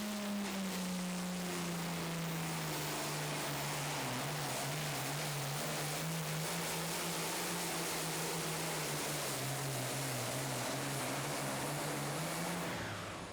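A Farmall 1206 pulling tractor called Dime a Dozen roars at a pull in Goshen, Indiana, its engine a loud, sustained drone that sags slightly in pitch through the run before cutting off at the end.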